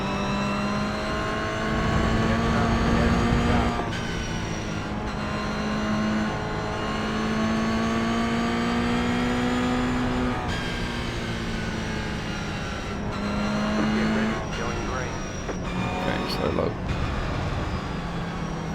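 Race cars in iRacing at Road America roar past under steady engine drone, revving and shifting pitch as they race close together, with someone talking over the engine noise.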